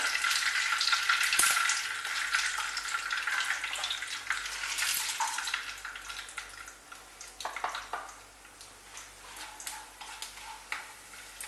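Whole garam masala spices crackle and fry in hot ghee for a vegetable dum pulao, a steady close sizzle that is loudest early and then settles, with scattered small pops and no talking.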